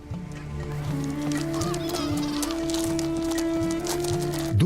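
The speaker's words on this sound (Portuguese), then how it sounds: "Duas gaivotas fuliginosas, machos, estão presas em uma amarga disputa territorial." Two male sooty gulls fighting over territory on a desert coast, harsh repeated honking and squealing calls over steady background noise, close and fairly loud.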